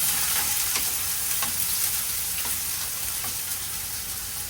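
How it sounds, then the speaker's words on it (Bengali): Chopped onion frying in oil with beef liver in a home kitchen, a continuous dense sizzle heard up close with occasional light spoon scrapes and no talking. "এখানে দিয়ে দিচ্ছি ভাজা ভাজা হওয়ার পর পেঁয়াজ কুচি"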